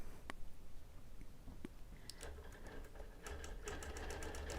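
A longarm quilting machine sews basting stitches at about ten stitches per inch, a faint low mechanical hum that turns into a quick, regular stitching patter in the second half.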